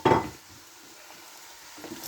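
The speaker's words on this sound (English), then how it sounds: "Can you give that a good stir, please?" Carrots and swedes frying in a stir-fry pan are stirred, starting with a brief scrape and clatter, then a faint, quiet sizzle that continues on its own.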